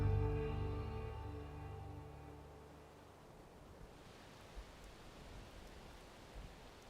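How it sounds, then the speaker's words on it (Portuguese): Steady rain falls on farmland, the kind that is good for crops: a fading tonal hum at the start gives way to a dense, even hiss with occasional soft patters. "Essa chegou na hora certa. Tá bom. E é o tipo da chuva boa para a lavoura."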